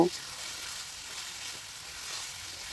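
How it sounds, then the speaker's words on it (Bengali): Boiled rajma stirred into frying masala in a pan gives a soft, steady sizzle with faint stirring scrapes, a short clunk at the start and no talk over it. "এবারে সেদ্ধ রাজমাটা এর মধ্যে দিয়ে ভালো করে নেড়ে চেড়ে আরও দু মিনিটের মতো এটা আমি রান্না করে নেব"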